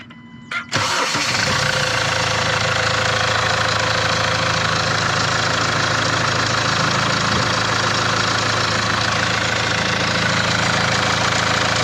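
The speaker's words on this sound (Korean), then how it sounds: "죄송한데 시동 한 번만 좀 걸어봐 주시겠어요?" A 2017 Kia Sorento diesel engine cranks briefly and catches, then settles into a steady, close, slightly knocking idle that runs on evenly.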